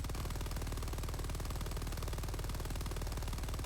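Continuous fast-cycling bursts from a Stalwart machine gun in a video game, steady and rhythmic throughout, fairly quiet and without pauses.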